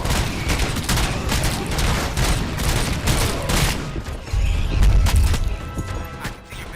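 Intense gunfire in a RoboCop: Rogue City shootout, with dense overlapping bursts and impacts that run continuously and loudly at close range, growing heavier near the end.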